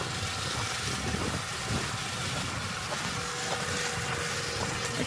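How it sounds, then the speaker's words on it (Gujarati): A tractor runs steadily in a farm field while fertilizer is spread, its broadband engine rumble filling the scene continuously and fairly loudly, with no voices heard. "ખાતર નાખવાનું કામ ચાલુ છે ને ટ્રેક્ટર ચાલુ છે"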